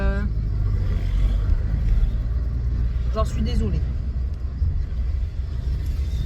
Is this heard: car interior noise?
yes